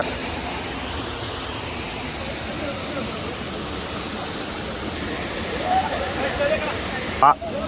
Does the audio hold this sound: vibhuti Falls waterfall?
yes